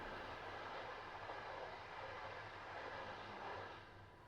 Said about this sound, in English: what is that? it's a commuter train.